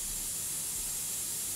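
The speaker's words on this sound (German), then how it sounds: "als er ein leises Zischen vernahm. Der Kabinendruck begann sich zu senken." Air hisses out steadily as cabin pressure drops in an airlock, a continuous, even, bright hiss that fills the whole stretch without pause or change.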